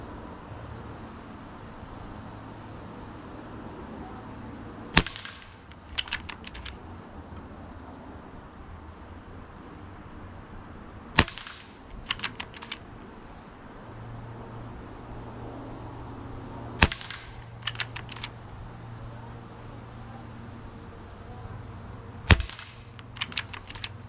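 Four sharp cracks from a Gamo Arrow Classic .22 air rifle fired at targets 30 yards away, spaced about six seconds apart, each shot followed by a quick rattle of mechanical clicks, over quiet outdoor background hum.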